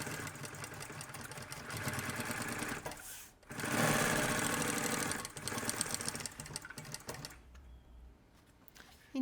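A sewing machine runs a steady stitch along the edge of fabric, a loud continuous mechanical whir with a brief pause partway and a tapering stop near the end.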